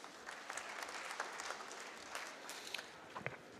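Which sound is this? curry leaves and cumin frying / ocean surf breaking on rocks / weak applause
weak applause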